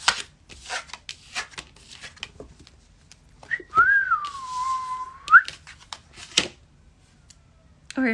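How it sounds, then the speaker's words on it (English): Tarot cards shuffled at a casual reading, heard as scattered soft riffling and tapping bursts, with a sustained whistled tone sliding through the middle. "we'll shuffle the cards just for fun too"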